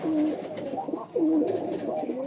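Lal Sundori pigeons coo close by in a pair of rolling, throaty calls separated by a brief pause.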